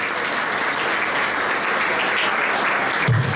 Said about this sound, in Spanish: yo pido un aplauso de vuelta para todas ellas, de parte de los caballeros